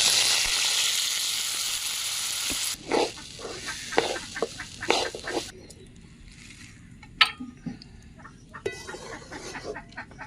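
Drained rice hitting hot oil in a kadai for chicken pulao, a loud close sizzle at first that breaks into clattering stirring and scraping bursts before fading to softer frying, no talking.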